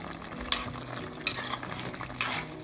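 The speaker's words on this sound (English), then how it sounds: "Mix it in." Seasoning and brown sugar stirred into a pan of sweet and sour pompano, three sharp scraping strokes of a utensil over a low steady sizzle, close by with no voices.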